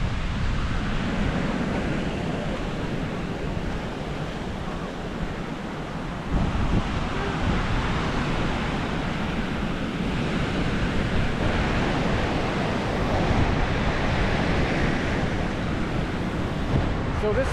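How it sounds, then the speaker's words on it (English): Surf and wind at Kamala Beach in Phuket, Thailand, make a continuous broad roar of waves with gusty wind buffeting the microphone, loud and unbroken throughout. "This beautiful Kamala Beach."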